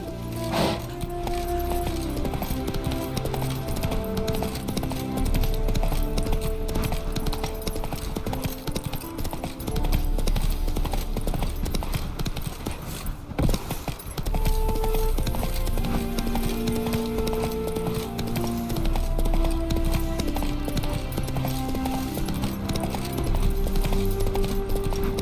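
A horse gallops in The Witcher 3, its hooves beating a steady, continuous clip-clop rhythm under background music, with faint voices and a brief whinny-like sound at times.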